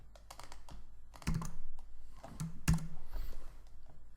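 Keys clatter on a computer keyboard in short, irregular bursts of crisp clicks with brief pauses between them, close up and quiet, with no speech.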